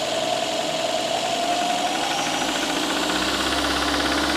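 Mercedes-Benz 264 engine with an abnormal knocking fault, running and being revved in a repair shop, giving a steady loud mechanical clatter and rattling hum with no talking.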